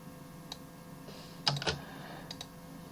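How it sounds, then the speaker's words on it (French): Quiet, sparse keyboard typing: a few isolated key taps, then a quick cluster of clicks, then more scattered taps. "Et au clavier, je supprime toutes ces arêtes."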